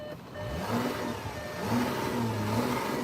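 A warmed-up 2014 Audi Q5 with a 3.0 diesel engine runs steadily close by, its mid-pitched hum swelling slightly in a couple of gentle revs with no one talking.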